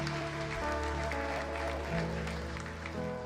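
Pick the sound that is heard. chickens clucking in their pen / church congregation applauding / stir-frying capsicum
church congregation applauding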